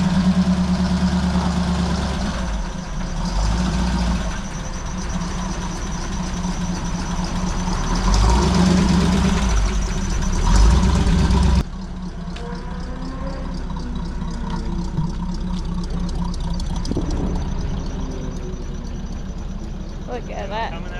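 A 1933 three-window coupe engine runs steadily for a long stretch, close and loud, with a low rumbling idle that shifts slightly partway through. People talk over it now and then.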